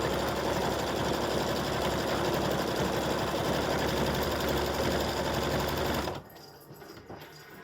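An embroidery machine stitches a small in-the-hoop coaster in a 4x4 hoop, a loud, close, rapid and steady stitching clatter that runs for about six seconds before stopping abruptly, leaving near-silence.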